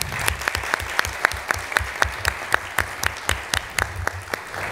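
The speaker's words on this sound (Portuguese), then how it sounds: "pedir uma salva de palmas pela chegada dele" A conference audience claps in welcome for an arriving tax-reform official, a rhythmic, evenly spaced run of fairly near, crisp handclaps that continues steadily without any talk.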